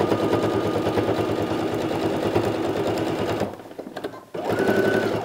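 A sewing machine runs steadily, stitching over the joint of a fabric binding strip, loud and close with a fast rhythmic whir, briefly pausing before starting up again.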